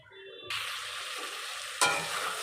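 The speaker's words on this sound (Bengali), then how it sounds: "এরকম নাড়া দিয়ে দিয়ে ভালো করে কষিয়ে নেব।" Potato and tomato being stirred and fried in a pan, a close sizzle with a few scraping stirs and a louder burst of frying near the end, no voices.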